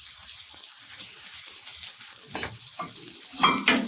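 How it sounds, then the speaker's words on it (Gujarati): Boiled rice being stirred into sizzling vegetables on a tawa for street-style Mumbai pulao, a soft steady fry with scraping spatula strokes growing louder near the end, no talk. "અને આને આપણે સારી રીતે ચલાવી દઈશું, મિક્સ કરી દઈશું."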